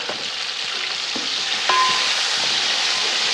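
Chopped tomatoes hit a pan of frying onion and garlic, setting off a loud, steady sizzle with a few clicks of stirring, close up and with no talking.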